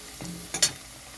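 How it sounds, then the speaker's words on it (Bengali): Potatoes frying in a pan, a short burst of sizzling with a quick scrape and clink of a spatula, close and brief. "এখানে আলুটা ভাজা ভাজা হয়ে গেছে।"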